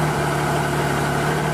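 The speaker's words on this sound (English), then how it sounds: "now that the engine's running" A 2016 Triumph Trophy SE motorcycle engine idles at close range, a steady, even low hum with a constant tone and no revving.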